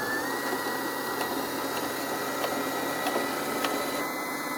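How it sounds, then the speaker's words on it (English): A Singer Heavy Duty 6600C sewing machine winds its bobbin with a steady, continuous motor whir and a thin high whine, holding an even level from start to finish with no talking. "that's when you can step on the pedal and it'll thread your bobbin"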